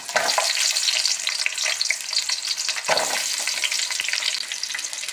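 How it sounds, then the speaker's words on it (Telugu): Cinnamon sticks and cloves sizzle in hot oil for a spicy mutton curry and basmati pulao, a steady bright crackle that stays loud and close for the whole stretch, with a brief stir and a fresh burst of spitting partway through. "ఓన్లీ దాల్చిన చెక్క లవంగా యాడ్ చేస్తున్నాను"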